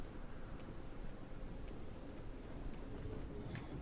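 Steady broadband rain hiss from the game Morrowind, a continuous soft wash with no voices and a few faint high ticks.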